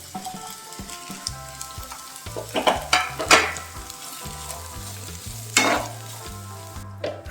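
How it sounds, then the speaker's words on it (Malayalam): Carrot, beans and capsicum sizzle and fry in a pan while being stirred, with steady frying hiss, low rhythmic pulses and several louder scraping stirs close up, no voices. "ഇതിലേക്ക് ക്യാരറ്റ് ബീൻസ് ക്യാപ്സിക്കം ചേർത്ത് വഴറ്റാം"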